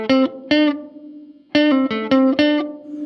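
Electric guitar played through an Electro-Harmonix Cathedral reverb pedal with the tone knob turned fully down: a few dark, muted plucked notes and short chords ring out, each with a dull, subdued reverb tail, close and alone.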